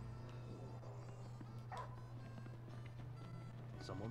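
A dog in the video game Final Fantasy XV gives a few short yips and whines, fairly faint, over a constant low electronic hum of game sound.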